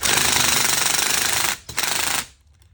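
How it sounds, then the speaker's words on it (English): A power drill drives lock nuts tight on a Duke 850 Pro wolf trap, a loud continuous whirring burst that cuts out briefly, then runs again before stopping. "grab my drill, ready to tighten her back down."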